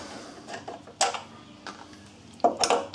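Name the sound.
removing a bolt from a Volkswagen Jetta lock carrier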